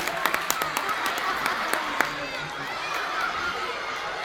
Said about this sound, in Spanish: Le damos un aplauso con fuerte ahí